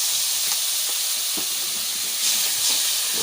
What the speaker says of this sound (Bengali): মশলাগুলো সাঁতলানোর জন্য সামান্য একটু জল দিই।